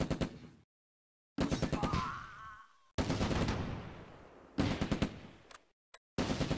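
Machine gun bursts with heavy rapid gunfire in the Close Combat WWII game, an ambush around Operation Market Garden with BAR squad and .30 cal firing; loud rattling bursts separated by brief silences, no talk.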